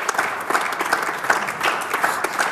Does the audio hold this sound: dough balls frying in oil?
no